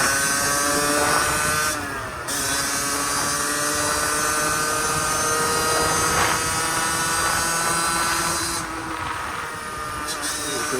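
Beta RR50 50cc two-stroke enduro motorcycle being ridden, engine droning steadily and close throughout with a sustained buzzing pitch that briefly shifts around gear changes.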